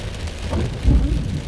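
Thunder from a close cloud-to-ground lightning strike inside a weak supercell, a deep heavy rumble swelling midway over steady heavy rain and wind.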